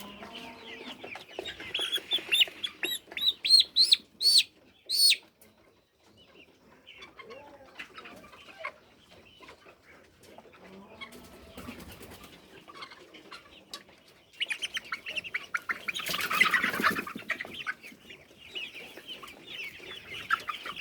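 Chickens cluck and squawk in irregular bursts, louder at the start and again later, with quieter murmuring and rustling between.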